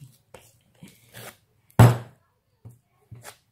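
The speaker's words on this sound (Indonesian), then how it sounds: "Saya paling suka banting-bantingnya." Whole wheat bread dough is slammed onto a work surface in one heavy, close thud, surrounded by softer handling knocks and brief quiet voices.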